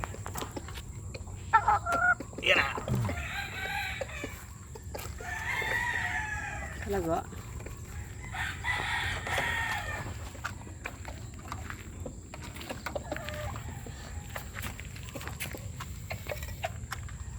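Breeder chickens cluck and squawk at close range during feeding over a low background hum, with several rising calls bunched early and sparse clucks continuing after.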